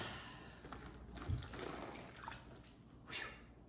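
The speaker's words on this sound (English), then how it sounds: "Then we're gonna pour the marinade on top." Marinade poured from a bowl over London broil steak in a bag gives a soft, faint liquid trickle and splash lasting a few seconds.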